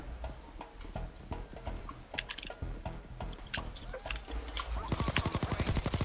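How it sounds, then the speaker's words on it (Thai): In the video game Payday 2, gunfire starts with scattered shots mixed with keyboard clicking and then breaks into a rapid automatic burst at the end, all fairly quiet and in the background. "เดี๋ยวพี่ไปยิงทหารก่อนยิงตำรวจก่อน"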